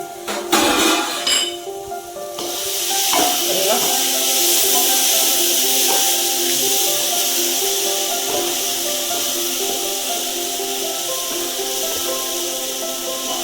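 A spoon stirs and scrapes a pot of biryani base with onions and masalas, giving repeated close rubbing and scraping strokes with a few metallic clinks, steady under a continuous background hiss.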